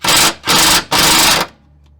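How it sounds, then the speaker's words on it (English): A pneumatic impact wrench with failing power rattles in three loud bursts during car suspension repair on a turbo Subaru Forester, each burst about a third of a second, then it cuts out into near silence. "Alright, rattle gun. The rattle gun is almost dead,"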